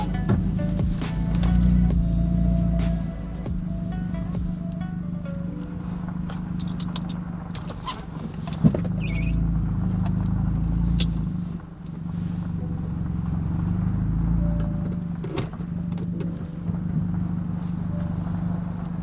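A Volkswagen GTI being driven, with a steady low engine and road drone inside the cabin that runs for about nineteen seconds, broken by occasional rattles and small clicks, with no speech.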